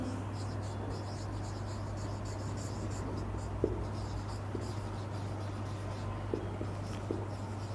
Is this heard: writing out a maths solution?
yes